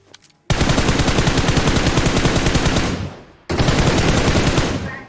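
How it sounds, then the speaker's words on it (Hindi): An M762 rifle in PUBG fires two long rapid full-auto bursts, loud and close, the first running nearly three seconds and the second starting after a brief pause. "और अपार्टमेंट से हम पे फायर हो रहा था"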